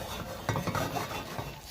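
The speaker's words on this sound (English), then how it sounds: "Stir it until everything's melted together." A spoon scrapes and stirs sugar melting for bonfire toffee in a pan over low heat, giving a continuous close rasping swirl with a few slightly louder strokes.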